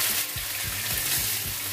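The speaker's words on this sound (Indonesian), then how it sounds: "kita tumis dagingnya ya" Meat stir-fries in hot cooking oil in a wok, a dense continuous sizzle close by, with soft intermittent scraping thuds of stirring underneath.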